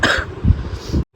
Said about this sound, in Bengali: মানে এতটা কাশি হয়েছে